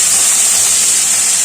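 Curry leaves, with green chillies and onion, hit hot oil in a loud, close, continuous hiss of sizzling.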